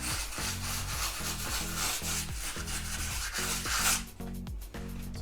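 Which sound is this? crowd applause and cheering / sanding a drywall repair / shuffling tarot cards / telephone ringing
sanding a drywall repair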